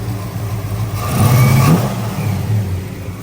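Car engine fitted with a cold case radiator and electric fans, idling then blipped into a single rising rev that falls back to a rumbling idle, heard close.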